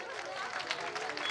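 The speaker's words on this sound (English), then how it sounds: "give a big round of applause for them" Crowd applause at a school winter carnival event, a dense steady wash of many hands clapping with a murmur of voices mixed in.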